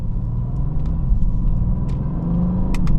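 A Mercedes-AMG GT S V8 soft-top drives on the road, its engine and tyre rumble steady and close from inside the cabin, with a few brief clicks and taps standing out near the end.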